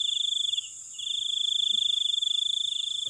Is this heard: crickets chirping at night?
yes